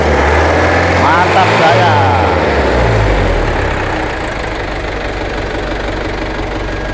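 A diesel engine in a custom Chevrolet Blazer revs loudly, climbing and falling in pitch a few times before settling into a lower, rough idle, while someone speaks over it.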